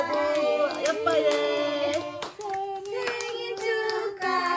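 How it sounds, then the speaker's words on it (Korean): Family members clap their hands in rhythm while singing a Korean birthday song at home, the voices carrying a clear melody close by and a voice among them, with claps sounding under the singing. "박수."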